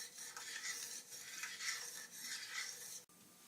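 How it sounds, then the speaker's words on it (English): Sea salt seasoning being stirred into a pot of garbanzo bean soup, a continuous scraping swirl of spoon against pot with rhythmic bright strokes, close and alone, ending in a brief knock. "when you're done putting in your seasoning, you want to stir it in really nice and good"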